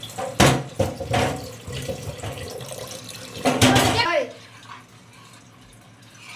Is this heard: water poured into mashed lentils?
yes